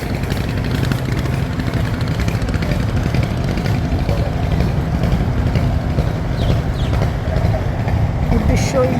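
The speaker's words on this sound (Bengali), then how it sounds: "একজন যাত্রীকে কর্ণফুলী 14 লঞ্চের উদ্দেশ্যে নিয়ে যাচ্ছে ট্রলার" A trawler boat's engine running steadily and loudly throughout while carrying a passenger out toward the Karnafuli 14 launch, a constant low drone with people talking over it.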